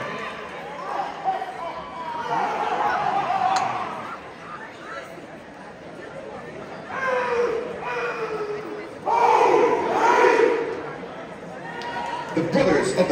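A crowd at an Orlando NPHC alumni fraternity step show cheers and shouts in swelling bursts. An announcer's voice carries over the noise.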